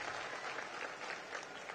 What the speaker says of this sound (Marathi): एकदा जोरदार त्यांच्यासाठी टाळ्या वाजून त्यांचा सत्कार हा आपण सर्वांनी केला पाहिजे.